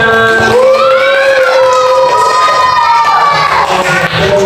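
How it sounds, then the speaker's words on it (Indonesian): A loud crowd of children in a class shouts and cheers together, with rising and falling voices close by. "Beri tepuk tangan semuanya."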